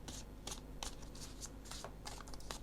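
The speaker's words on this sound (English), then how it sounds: "I'm just guided to shuffle a little bit longer." Cards are riffled and shuffled in quick repeated bursts, crisp and close, about eight short flurries over a quiet background.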